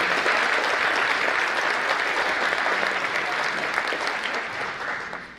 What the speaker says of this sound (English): Can we have a nice round of applause for all 6 candidates?